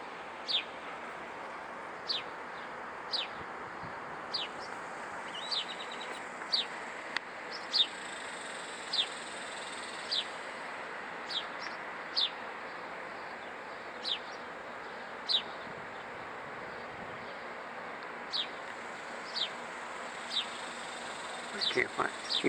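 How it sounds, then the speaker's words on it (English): Short, sharp bird chirps sound at irregular intervals, fairly faint, over a steady outdoor background hiss with occasional low rumbles. "I know there's a bird in here."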